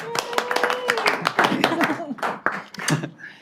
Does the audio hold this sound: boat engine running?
no